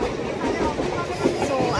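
Mumbai local train from Dadar, a steady rumbling ride with faint rail rattle inside the carriage and a low crowd murmur.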